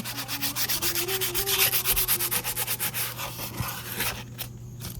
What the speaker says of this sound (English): So I'm just sanding this up.